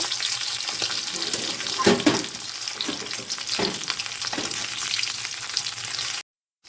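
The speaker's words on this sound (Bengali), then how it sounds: "একটু হালকা গরম ভাজা করে নেব।" Leftover fish being lightly reheated by frying in a pan at home, a steady close sizzle with brief stirring scrapes, running alone before cutting off near the end.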